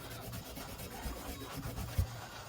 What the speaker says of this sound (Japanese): お茶碗の 底の部分の ちょっとギザギザしてるところ、あの辺でね、シャープナー代わりに 何かを切る前、少し 滑らせてあげると